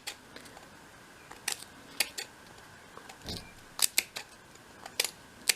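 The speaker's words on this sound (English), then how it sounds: "bring in your scissors, and we're going to cut some slits" Scissors cutting a row of slits for a 1/12 scale miniature shop project, with crisp close snips and clicks coming in irregular clusters over a quiet background.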